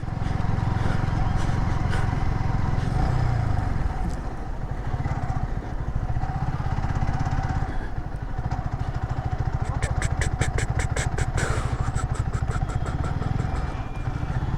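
Motorbike engine idling close by as the bike is parked in front of a shop: a steady low chugging throughout, dipping briefly midway, then a rapid ticking burst near the end.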